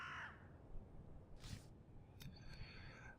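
Crows cawing in the video game Sorcery!, a few harsh caws spaced apart, the first fairly faint, then sharper calls later over a quiet, low ambient background.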